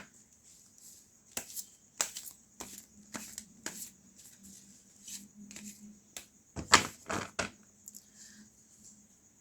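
A deck of tarot cards shuffled by hand: a run of crisp riffling bursts and soft card slaps with brief pauses between, close and fairly quiet, with no talk.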